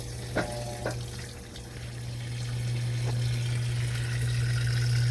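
A Whirlpool 4.7 cu ft top-load washer fills: steady rush of water pouring in under a constant low mechanical hum, with a couple of brief clunks early on, growing slightly louder over time.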